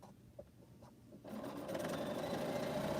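Sewing machine stitching quilt pieces for a laundry basket quilt, starting after a quiet moment and then running in a steady, close, continuous whir.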